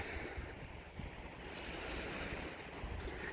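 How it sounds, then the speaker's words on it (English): Steady surf washes onto a beach at Chequamegon Bay near a park boat ramp, and gusty wind buffets the microphone. The rushing noise is continuous and moderately loud, and no voices are heard. "Waves, water,"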